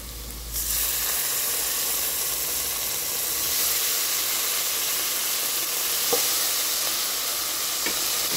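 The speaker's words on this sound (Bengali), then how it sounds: "এবারে আমি উপর থেকে টমেটো পিল ঢেলে নেবো।" Canned peeled tomatoes pour onto sizzling ginger-garlic masala in a pan for mattar paneer, raising a loud, steady frying hiss that holds throughout with a few faint clicks near the end.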